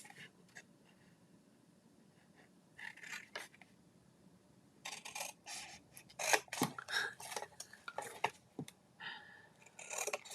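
Scissors snipping a tab at an angle on a paper craft piece, heard as a few short, close crisp cuts and rustles separated by brief pauses, with quiet room tone between them and no talking.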